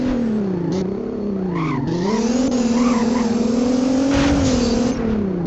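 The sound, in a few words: GTR car driving in video game Driving Empire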